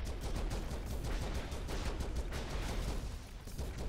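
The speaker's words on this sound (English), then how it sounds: "But because Ripley's firing like a pulse rifle, it's blue." Rapid blue pulse-rifle fire from Ripley in Broforce, a dense continuous rattle of shots filling the whole stretch at steady loudness, with no talk over it.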